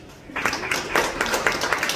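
At a Christmas and New Year show in St. Petersburg, Russia, scattered audience clapping breaks out after a brief quiet moment, a loose mix of individual claps that stays fairly close and moderately loud.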